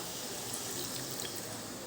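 Water is poured into a mixer jar holding leftover masala, a soft continuous splashing trickle that lasts throughout.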